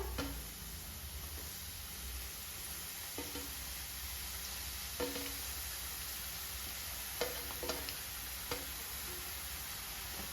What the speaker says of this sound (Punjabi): ਬਿਲਕੁਲ ਹਾਈ ਫਲੇਮ ਦੇ ਉੱਪਰ ਫਰਾਈ ਕਰਾਂਗੇ ਇਹਨਾਂ ਨੂੰ